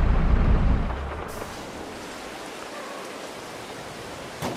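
Rain falling in the Farming Simulator 22 video game, a steady broadband hiss of rainfall after a louder low rumble fades in the opening second, with a faint sharp tap near the end.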